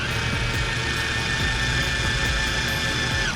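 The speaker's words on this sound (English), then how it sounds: "Sometimes it helps to drill the center of the pin out with a smaller drill bit" A power drill with a small bit bores out the center of a hinge pin on a boat door, a steady, loud, continuous whine that runs without a break.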